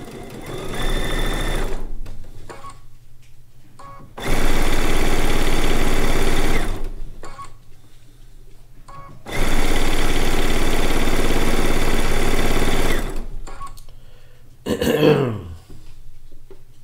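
A sewing machine stitches a log cabin quilt top in long, loud, steady bursts separated by pauses, with a short clunk of handling near the end.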